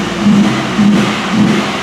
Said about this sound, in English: Engine's running like garbage.